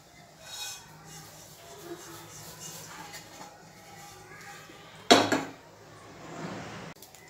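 Roasted poha is scraped out of a pan, with soft rustling and one sharp metallic clank of a utensil against the pan midway, in a quiet kitchen.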